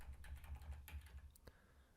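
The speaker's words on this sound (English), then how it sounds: "I'm going to select two dots here and use my arrow keys on the keyboard." Arrow keys on a computer keyboard are tapped during font editing in Figma: a few quiet, separate key clicks spaced irregularly over a low background hum.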